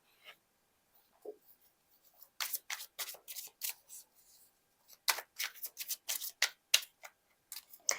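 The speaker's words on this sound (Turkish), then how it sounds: "Hemen şu kılıç ikilisine bir kart alalım" Tarot cards are shuffled and drawn, with quiet close riffles in two bursts of quick crisp flicks and small pauses between them.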